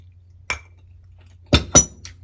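Glasses clink together in a cheers toast over tea and sweets, one light tap followed after a pause by two quick bright chinks and a faint final touch, close and clear with no voices.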